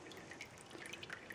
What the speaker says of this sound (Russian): Вот эту воду сюда перелью.